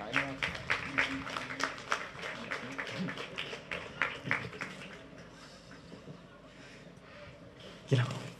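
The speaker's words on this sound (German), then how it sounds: "Einen großen Applaus für alle und für das, was uns heute erwartet" An audience applauds in a dense, steady wash of clapping that fades gradually and ends with a single louder sound.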